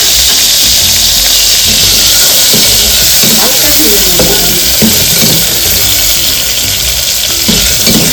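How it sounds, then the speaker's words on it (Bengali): Turmeric-coated prawns frying in a pan, a loud, constant hissing sizzle with bursts of bubbling oil and occasional stirring clinks, close up, with no talk. "চিংড়ি মাছটা হলুদ মাখিয়ে নিয়েছি এবার এটা একটু আমি ভেজে চিংড়ি"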